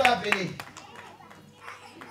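A church congregation at a Paris convention applauds, with a couple of sharp claps up front fading into a lighter patter of hands and murmuring voices.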